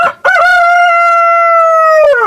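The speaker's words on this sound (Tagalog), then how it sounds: "At habang nagsasalita pa si Pedro, ay tumilaok ang manok." A single loud, close rooster crow, one long sustained cock-a-doodle-doo call with a sharp rise at the start and a falling tail, heard alone.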